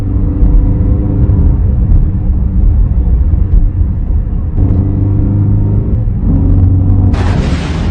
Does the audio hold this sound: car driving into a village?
yes